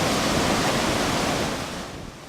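Ocean surf washes continuously onto a beach on Queensland's Sunshine Coast on a morning, a broad, steady roar of breaking waves that eases slightly toward the end, with no voices.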